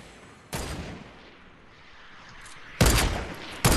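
Gunfire in Fortnite during a squad match: a few sharp shots stand out against a low, quiet background, with a single crack early on and a louder pair of bursts near the end, with no talking.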